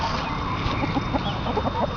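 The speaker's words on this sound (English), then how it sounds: "There's a golden buff rooster." Golden buff rooster clucking in an open-range chicken yard, a quick run of short, close clucks repeating over a low outdoor background.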